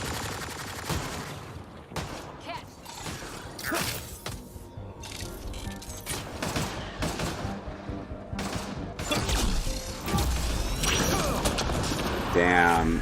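An overload and fire power combo goes off in the Mass Effect Andromeda video game amid heavy gunfire, with rapid bursts, sharp impacts and crashing blasts building louder toward the end.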